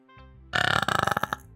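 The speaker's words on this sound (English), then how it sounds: "I'm really burping a lot." A single long, loud burp right up close, rising from a low rumble into a rapid, rattling run of pulses lasting about a second, with no talking.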